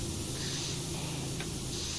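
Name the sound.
pressure washer spraying in video game PowerWash Simulator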